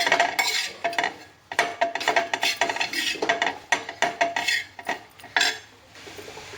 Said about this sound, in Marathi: आता ही मेथी याच्यात कालून घेऊ आपण गॅस खालून करायचं